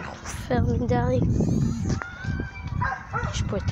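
A dog in a park barks and yips repeatedly in short excited bursts, close by and mixed with people talking.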